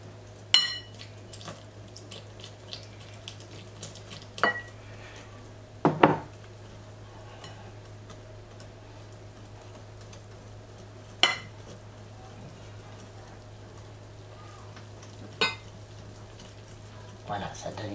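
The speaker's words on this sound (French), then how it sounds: "Petit à petit, on incorpore la farine, ça évite d'avoir trop de grumeaux." Spoon or whisk clinking against a bowl as flour is gradually stirred into a smooth batter, with sparse sharp taps and scrapes at irregular intervals over a steady low hum.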